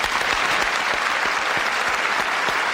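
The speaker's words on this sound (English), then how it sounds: "give them a round of applause." A studio audience on a live paranormal television show gives a steady, dense round of applause for two guests, loud and continuous from start to finish.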